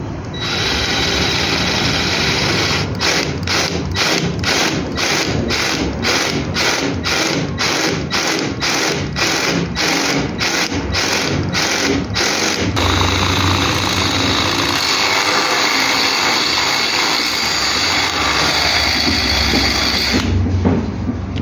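An angle grinder sharpens a metal drill bit with a loud, constant roar, broken for about ten seconds by rapid rhythmic pulses as the bit is worked against the disc, then steady again.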